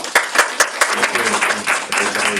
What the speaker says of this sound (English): Big round of applause to Mataji